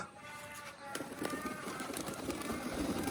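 Pigeons being released onto rooftop perches flap their wings in a brief burst of fluttering, close and moderately loud, over a faint background hiss.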